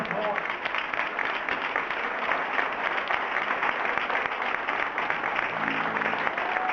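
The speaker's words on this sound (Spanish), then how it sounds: "Fuerte aplauso, por favor." A crowd at a rock history talk gives a sustained round of applause in tribute to a late band member, steady dense clapping filling the room at moderate level throughout.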